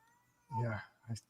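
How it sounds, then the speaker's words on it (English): A cat meows twice, a longer drawn-out cry followed by a short one, faint and slightly distant in a quiet room. "What are you screaming at? My cat."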